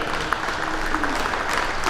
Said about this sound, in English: I think this class deserves a big, big round of applause